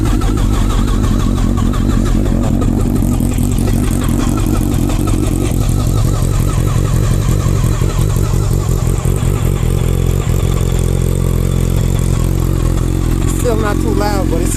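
Kawasaki ZX12 motorcycle engine running close up, a loud continuous rumbling idle with some revs rising and falling over about fifteen seconds.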